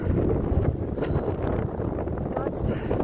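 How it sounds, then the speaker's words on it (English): Strong wind whips across a microphone on a mountain trail, a steady gusting roar with buffeting throughout the short stretch. "Man, that wind is whipping."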